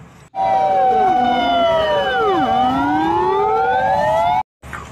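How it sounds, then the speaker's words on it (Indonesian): A loud electronic toy fire truck siren wails and sweeps up and down in pitch for several seconds, with a thin, toy-like tone, then cuts off abruptly. "ini ada truk pemadam kebakaran atau mobil damkar"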